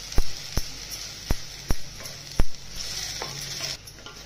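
Spices are stirred into frying mackerel curry masala, a low sizzle under several sharp clicks and scrapes of a spoon against the pan, spaced irregularly and close.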